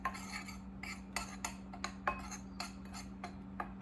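Spoon clinks and scrapes against a bowl while mixing banana chocolate chip protein muffin batter, a quick run of sharp clicks and taps close by over a steady low hum, with no talking.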